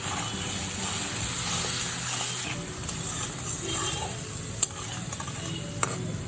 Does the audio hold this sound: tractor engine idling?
no